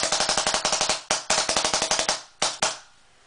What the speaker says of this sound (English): That's how fast this gun can shoot.